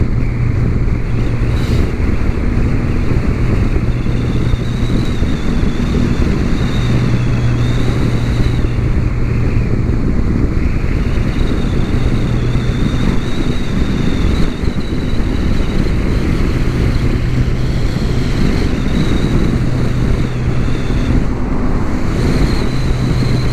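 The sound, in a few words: 2017 Polaris Slingshot driving on road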